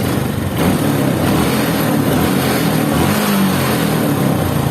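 A Honda Supra X125 motorcycle engine, freshly tuned at the carburetor, is revved close up with a loud, sustained throttle-up roar that holds steady.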